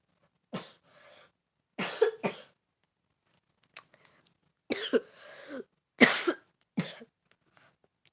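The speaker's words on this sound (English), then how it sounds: "That was a loud cough." Several loud, harsh coughs close to the microphone, arriving in bursts of one to three with short silent gaps between them.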